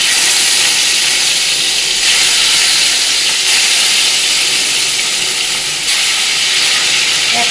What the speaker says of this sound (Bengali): যেই বেরেস্তা ভেজেছিলাম সেই তেলের মধ্যে আমি এক এক করে মাছগুলো সব ছেড়ে দেবো